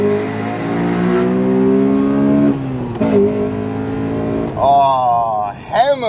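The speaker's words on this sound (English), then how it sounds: "hammering through the gears, both up and down, is just a joy" Honda Accord Euro R engine revving hard through rapid gear changes, up and down the box, the note climbing, dropping at each shift and rising again, loud and close, ending with sharp blips.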